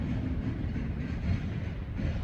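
A semi truck passes nearby on a road in the City of Industry, a steady low heavy rumble lasting the whole stretch without voices.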